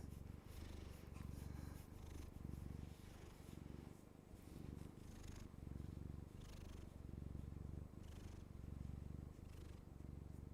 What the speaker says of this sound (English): Well, she's getting a little purr now.